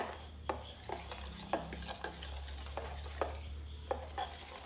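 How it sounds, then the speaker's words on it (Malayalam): A spoon stirs an unheated homemade soap mixture with added vitamin E and almond oil, giving soft scraping strokes at a loose, regular pace against a faint background hiss. "ഇത് ജസ്റ്റ് മിക്സ് ആക്കുന്നു. ചൂടാക്കിയിട്ടില്ല, ജസ്റ്റ് മിക്സ് ആക്കുന്നു."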